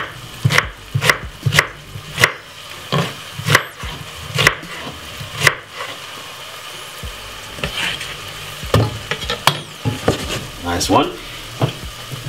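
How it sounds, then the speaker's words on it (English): White onion, garlic and spring onion fry in a pot for potato soup, a steady sizzle under a run of loud wooden knocks and clatters, with a short spoken remark partway through. "So we're gonna cook off the onion, the garlic,"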